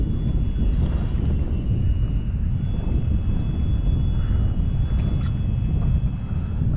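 Wind blowing past a taut fishing line from a Sun Dolphin PRO 102 boat on Caballo Lake in southern New Mexico, a steady high whistling drone over a loud rumbling wind roar, continuous throughout.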